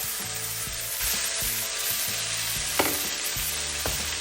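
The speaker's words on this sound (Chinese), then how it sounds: "然后翻炒， 倒入刚才炒好的鸡蛋" Chives and eggs are stir-fried in a wok, with a loud, steady sizzle broken by rhythmic scraping and tossing strokes of the spatula at a brisk, regular pace.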